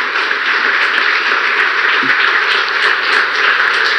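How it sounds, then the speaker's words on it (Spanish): Church congregation applauding to welcome first-time visitors, a thick, steady patter of many hands clapping together, sustained and even throughout. "un aplauso para ellos"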